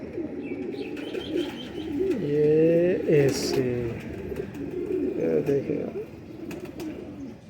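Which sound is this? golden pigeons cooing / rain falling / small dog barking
golden pigeons cooing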